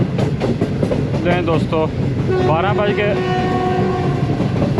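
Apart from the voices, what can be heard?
Green Line passenger train running, with train horn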